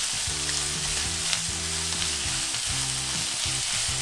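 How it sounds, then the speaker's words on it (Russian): Diced onion sizzles steadily in a hot frying pan, a constant crackling hiss close up, with faint stirring. "И обжариваем."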